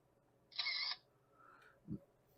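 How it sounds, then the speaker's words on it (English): A KAIWEETS two-way borescope camera snaps a picture while inspecting handbrake cable lines inside a car: one short electronic shutter-like burst, then a faint tone and a soft low thump, all quiet with no talking. "Let me snap a picture."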